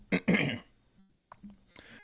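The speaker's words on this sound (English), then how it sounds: "I have to clear my throat" A person clears their throat with a couple of short, rough bursts up close, followed by faint vocal sounds.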